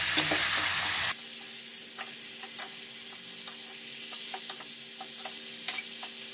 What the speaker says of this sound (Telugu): చికెన్ వేసుకున్న తర్వాత ఇలా మొత్తం కలపాలి.